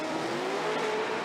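Pennzoil Ford Mustang RTR Spec 5D drift car engine at a Formula Drift battle, a loud sustained high-revving roar with a slowly rising pitch, heard close and continuous.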